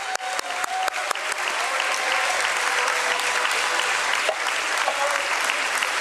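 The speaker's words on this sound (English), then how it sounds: "Let's give a round of applause." Sustained applause from a large crowd at a stock exchange listing ceremony, dense and steady, with a few sharper claps standing out near the start.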